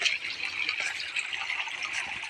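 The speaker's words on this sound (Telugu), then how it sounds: "ఇక్కడ చిన్న వాటర్ ఫాల్స్ ఉంది, చిన్నపాటి వాటర్ ఫాల్స్." A small forest waterfall flows with a steady, close rushing and splashing of water, continuous and fairly loud throughout with no voices.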